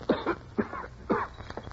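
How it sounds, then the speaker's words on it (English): Three harsh, raspy coughs in quick succession, close and fairly loud, with no other sounds around them. "How long have you had that cough"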